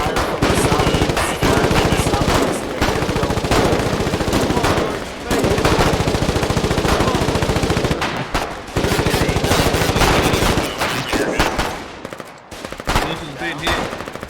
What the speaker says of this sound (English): It seems like we just got fire from the southeast.